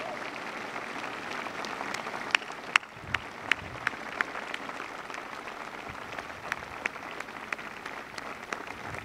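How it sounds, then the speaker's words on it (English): Sustained applause from a large crowd, a steady wash of clapping with a few sharper individual claps standing out, continuing without talk throughout. "Give yourselves a round of applause."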